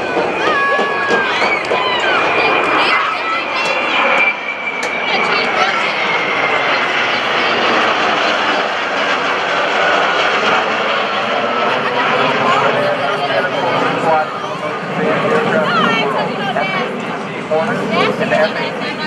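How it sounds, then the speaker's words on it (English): F-18E and F Super Hornet fighter jets roar at a naval air station airshow, a loud sustained engine rumble with a rising whine, while an announcer talks over the noise and a crowd murmurs. "the F-18E and F Super Hornets are fourth generation fighters known around the world for their facility and capabilities from the air to air"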